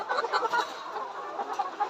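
Layer pullet hens clucking nearby in quick, uneven bursts, fairly soft, with no talking.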